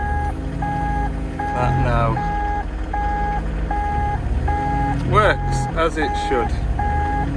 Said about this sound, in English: I've got the quick coupler release, as you can hear by the beeping